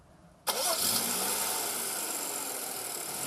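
A BMW X4 xDrive35i's 225-kilowatt petrol engine starts abruptly and settles into a steady, loud idle that continues evenly to the end.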